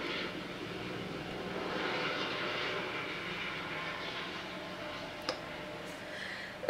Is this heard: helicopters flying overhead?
yes